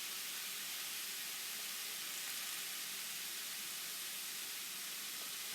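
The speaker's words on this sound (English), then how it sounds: "you have to let the pan come back to a sizzle" Pork sizzling in a hot pan while cooking Asian pork with rice and red peppers, a steady, dense hissing fry heard close and alone, with no talking.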